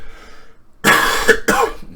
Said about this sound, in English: sorry about the coughing. I got a cold.